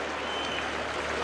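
Football supporters in a stadium applaud an attacking move in a Bulgarian league match, a steady broadband wash of clapping and crowd noise held at an even level across the whole short stretch.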